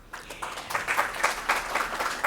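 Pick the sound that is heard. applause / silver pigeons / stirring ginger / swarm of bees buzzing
applause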